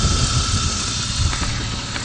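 A BMW M52 inline-six in a long-abandoned E36 328i idles steadily and smoothly in the engine bay with no odd noises, a continuous broadband engine rumble, loud and close with no talk.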